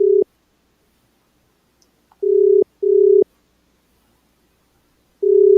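A telephone line tone after a radio call-in caller drops, heard as steady low beeps: one short burst, then three longer bursts separated by silences, loud and close with no talking.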